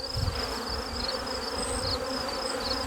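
A dense, continuous buzz of many honey bees swarming close by at a hive, steady and loud with no pauses.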